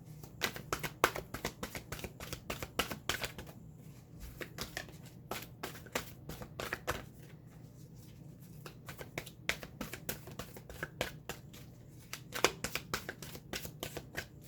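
Tarot cards shuffled by hand during a reading, a quick riffling patter of crisp flicks in repeated bursts with brief pauses, close and fairly quiet, no talking.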